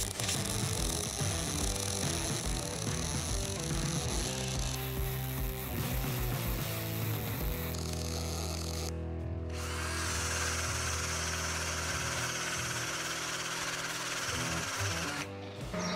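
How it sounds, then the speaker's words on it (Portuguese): MIG welding on stainless steel with a Boxer MIGFLEX 160BV welder, a loud continuous buzzing, crackling arc with steady tonal hum that shifts character midway, close and unbroken, no talk. "é com ela que nós estamos fazendo uma solda MIG em aço inox."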